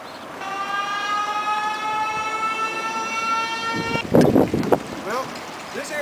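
A train on a ride through town sounds a long, steady horn blast for several seconds before it stops, followed by rumbling and clatter with a voice talking over the noise.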